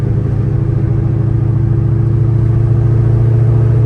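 A Ford GT500's supercharged engine with a very loud exhaust holds a steady, droning whine and rumble throughout, close and constant, with no voices.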